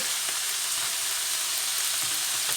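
Basil hits a hot frying pan with prawn pasta and sizzles in a steady, bright hiss that holds evenly throughout, with no voices.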